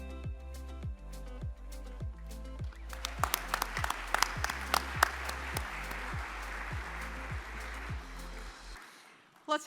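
An awards-ceremony audience applauding honorees at a family and private business awards event, a steady wash of many hands clapping that builds after a few seconds, with music playing underneath.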